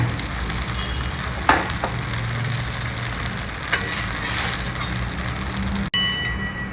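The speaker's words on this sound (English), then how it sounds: "I have not used any oil for cooking the dosa" Methi (vendaya) dosa cooks on a hot pan with no oil, giving a steady, soft sizzle with faint crackling throughout, a couple of brief clicks, and a short break near the end before the sizzle resumes.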